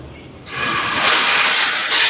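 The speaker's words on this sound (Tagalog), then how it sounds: "At yan yung shower. Subukan natin." A shower fed from an overhead tank on a second floor bursts on after a short quiet moment and settles into a loud, steady, hissing spray close by.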